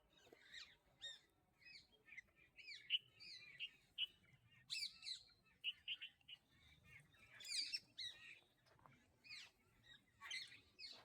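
Parrots and other birds, a tree pie among them, squawk and chirp in a busy overlapping chorus at a morning feeding, with bright, close calls bursting out repeatedly and no talk.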